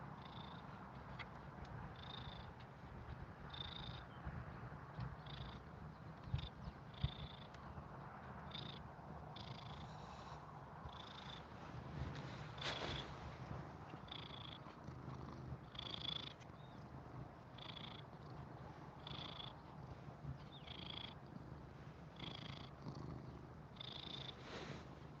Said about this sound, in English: He's a fairly large cat.